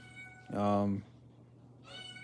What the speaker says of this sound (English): Hey, what are you meowing about?